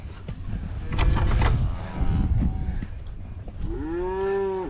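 A yellow cow moos loudly and close by on a ranch, several low drawn-out calls with a rising, bending tone near the end, among shuffling livestock noise.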